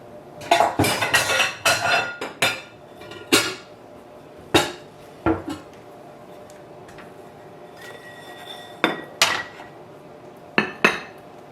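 Red onion, pineapple, pepper and mint salsa ingredients being moved into a bigger bowl, with loud, close clinks and clatters of bowls and cutlery in uneven bursts and quieter gaps between them.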